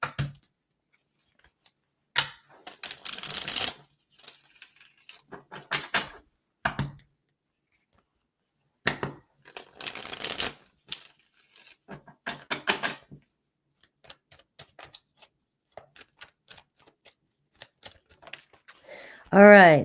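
Tarot cards being shuffled and pulled, heard as short, close bursts of riffling and slapping separated by quiet pauses, with one louder card snap at the end.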